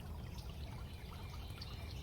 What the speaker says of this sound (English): sit in the silence, or in this case, the sounds of our creek